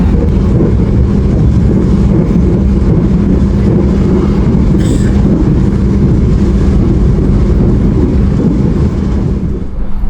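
Sawunggalih Utama economy train running at speed just after leaving the station, a loud, steady low rumble and roar that holds without a break throughout.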